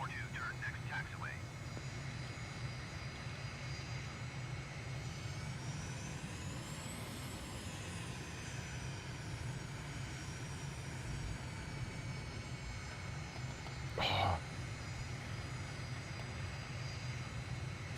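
Airliner jet engines hum steadily as a heavy airliner taxis in a flight simulator game, a continuous low drone with a faint rising whine midway, a brief click near the end, and a voice speaking over it.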